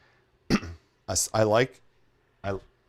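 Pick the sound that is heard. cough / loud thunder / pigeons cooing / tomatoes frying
cough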